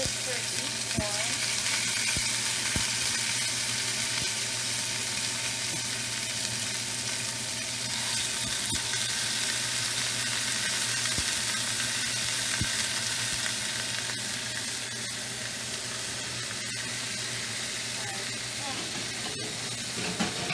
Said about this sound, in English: so you can then add it onto the pan like this, without burning yourself